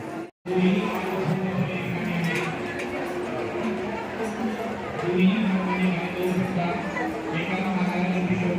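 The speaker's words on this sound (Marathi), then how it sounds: "गर्दी बघा किती झाली तरी अर्धी लोक दर्शन घेऊन चालले आहेत" Dense crowd murmur of temple visitors at Jejuri, a steady wash of many voices chattering close around, with a brief drop near the start and no single voice standing out.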